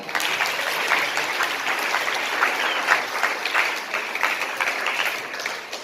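A hall audience at a public ceremony for a Shiv Sena MLA and students breaks into loud, continuous applause, a thick wash of many hands clapping without pause.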